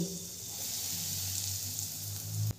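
Asafoetida hits three spoonfuls of hot mustard oil in a pan for a pea kachori filling, giving a steady, bright, close sizzle throughout that cuts off sharply just before the end.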